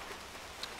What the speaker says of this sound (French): c'est la pluie qui commence